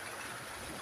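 Strong rushing water from a swollen stream in flood, a steady broadband roar with no pauses, close and fairly loud throughout.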